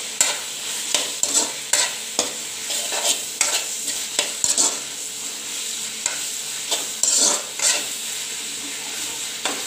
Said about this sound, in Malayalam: ഈ തക്കാളിയും ഉള്ളിയും നല്ലപോലെ വഴണ്ട്